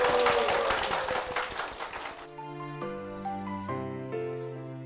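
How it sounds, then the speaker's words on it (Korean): A church congregation gives a deaconess a hearty round of applause that lasts about two seconds, then gives way to soft, clear piano notes ringing on alone. "우리 집사님께 힘찬 박수 부탁드리겠습니다"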